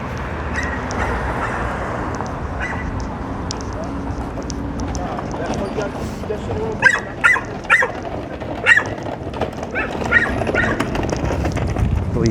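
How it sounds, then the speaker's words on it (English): Several loud, sharp dog barks in a short burst over steady street background noise near Fillmore and Golden Gate Avenue in San Francisco, with a couple more barks trailing after. "I believe that's a very loud dog."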